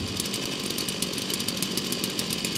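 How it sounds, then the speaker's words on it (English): A chainsaw runs at a steady, loud roar while cutting at a lumberjack competition, with a continuous buzzing drone and no talk. "There's nothing like the sweet sound of a chainsaw at a lumberjack competition."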